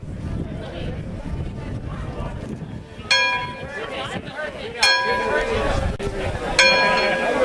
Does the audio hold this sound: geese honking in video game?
no